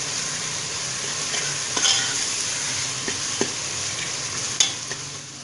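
Chicken masala with garlic sizzles steadily in a pan as it is fried and stirred, a continuous close crackling hiss broken by occasional scraping clicks of the spoon, with no talking.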